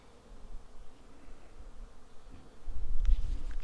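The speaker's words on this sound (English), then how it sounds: "The bees are busy here, though." Bees buzz around water at an old mine site, a faint insect hum at first that grows louder and closer toward the end as one passes near, with no talking.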